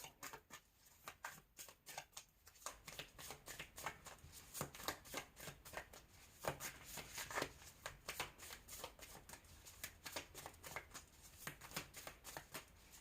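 Tarot cards being shuffled and pulled from the deck: quick, close riffles and crisp flicks in irregular bursts, quiet overall, with no speech.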